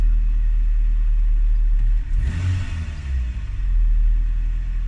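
A Renault Twingo engine idles with a deep, loud rumble; midway the tone wavers and dips unevenly in a slight judder before steadying again.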